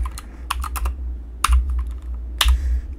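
Keys clack on a computer keyboard in irregular bursts, with quick runs of taps and a few heavier strikes, close up over a low steady hum.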